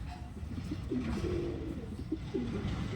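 Madrasi pigeons coo in soft, low, rolling calls repeated a few times over a steady background hum.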